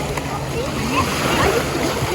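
People wade and splash around in the water, with irregular watery splashes and sloshing close by while voices talk and call out over the scene.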